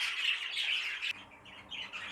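Pet birds kept for breeding squawk loudly in a harsh burst, then give quieter, scattered calls after a sudden drop.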